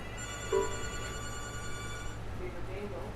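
A telephone rings in a broadcast bingo studio as callers come in, a short electronic ring heard faintly under low background hum and room noise.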